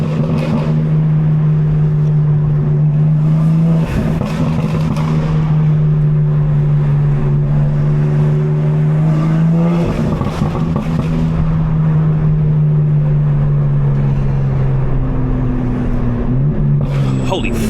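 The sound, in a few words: 750hp BMW M4 engine intake while driving at night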